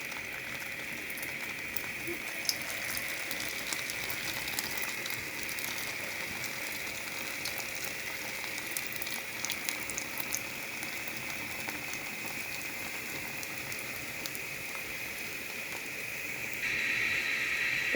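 Meat samosas bubbling in hot oil while being turned, a faint continuous fizzing and crackle of frying at a distance, steady throughout with a slight rise at the very end.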